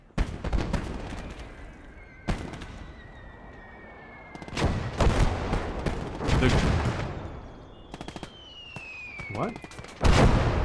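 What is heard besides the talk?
gunfire in Gates of Hell video game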